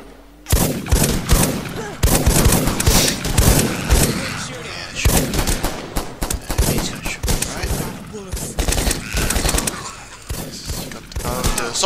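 Rapid assault rifle bursts from the game Rust crack out loud and close, firing in repeated volleys across the whole stretch with brief pauses between strings of shots.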